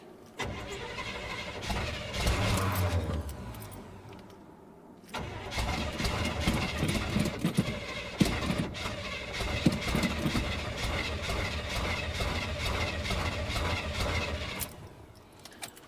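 A truck engine fitted with a new Napa starter cranks, catches and runs steadily, a loud continuous rumble close by with a brief dip partway through before settling into a sustained run and fading at the end.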